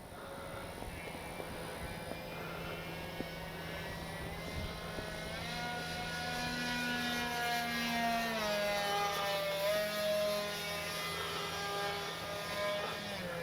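A Dynam Grand Cruise V3 radio-controlled airplane drones overhead on its propellers, a steady buzzing tone that swells and shifts in pitch as it passes, growing louder toward the middle before easing slightly.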